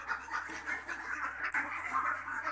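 Ducks quacking on a duck farm, a faint, scattered chorus of quacks heard from some distance under a low steady hum, with no talk over them.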